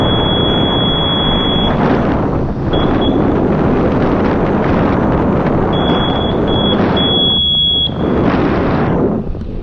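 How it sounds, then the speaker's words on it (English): A very loud, piercing airplane-style air horn on a Segway Max G2 electric scooter blares in long sustained blasts with short breaks, over heavy wind rush from moving outdoors. "This horn is very loud. It's an airplane horn."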